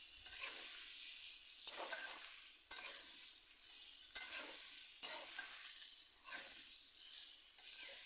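Radish and potato pieces with salt and turmeric sizzle in hot oil as a spoon stirs them in repeated scraping sweeps, a steady frying hiss that rises with each stir.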